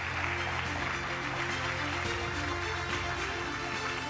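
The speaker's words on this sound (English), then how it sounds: "Please, a big applause." Audience applause at an innovation summit Shark Tank event, steady dense clapping sustained throughout without pause.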